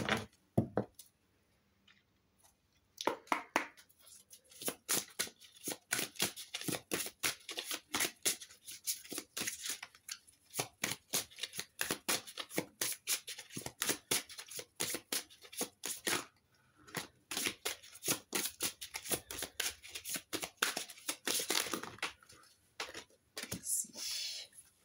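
Tarot cards are shuffled for a reading in a long, steady stream of quick riffling flicks and slaps, close and fairly quiet, with a soft voice speaking at times.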